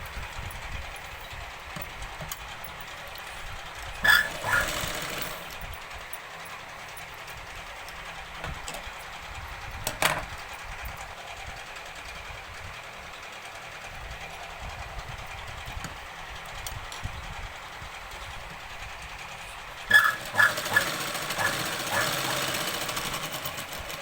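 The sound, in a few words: sewing machine stitching Punjabi dress pants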